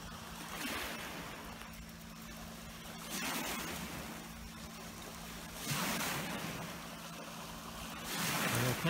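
Waves wash in repeated surges on a large Quebec lake, roughly every two to three seconds, over a steady low hum and wind noise at moderate distance.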